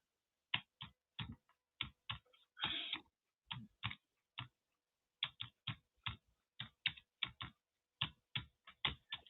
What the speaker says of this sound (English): It's the sound of hammers hitting a keyboard.